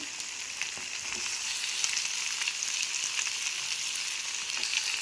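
Brinjal, tomato and curry leaves sauté in a pan for chutney, giving a continuous close sizzle and crackle with light stirring scrapes.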